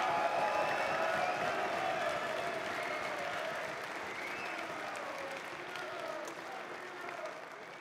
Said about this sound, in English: big round of applause for the legend, Dean the Boogeyman Lister